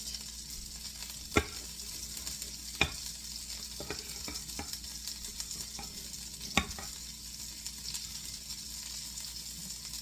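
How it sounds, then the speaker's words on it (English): A spatula folds egg whites into pancake batter in soft, repeated scraping strokes, with a few sharp clicks against the bowl over a steady background hiss and no talking. "if you have to use a spatula or a spoon, you rotate it as you fold it under"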